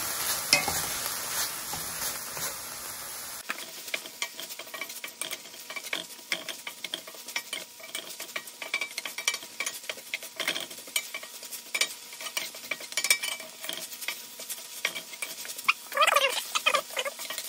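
Mustard being stirred into vegan chitterlings made with bean curd in a pan, a steady scraping and sizzling texture of spoon against pan running throughout with no talk.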